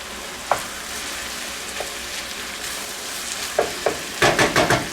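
Rice mixed into ground beef and vegetables frying in a pan: a quiet sizzle with scattered spoon scrapes that grow into a run of louder stirring strokes near the end, close by, no talking.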